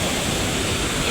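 A swollen mountain river rushes along the Everest region trek near Phakding, a loud, unbroken roar of whitewater filling the air.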